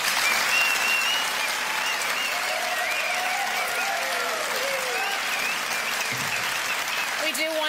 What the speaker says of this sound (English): You go ahead and give him a round of applause if you'd like